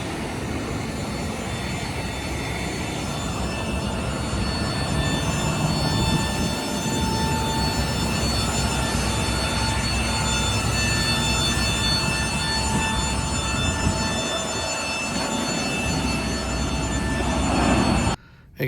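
A CFM56 jet engine on an airliner at LAX gives off a loud, steady roar with sustained whining tones that stay constant throughout.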